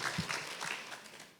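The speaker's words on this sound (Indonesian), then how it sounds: "Beri tepuk tangan sekali lagi buat Pak Herman" Brief round of applause from a church congregation during an Indonesian sermon, a soft wash of clapping that fades out within a second and a half.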